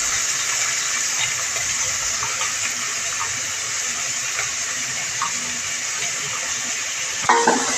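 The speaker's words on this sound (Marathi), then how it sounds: "आता दोन बारीक चिरून घेतलेले कांदे घालणार आहे" Finely chopped onions go into hot oil with cumin and mustard seeds in a home kitchen, producing a steady loud sizzling hiss close by, with a brief clatter near the end and no talk.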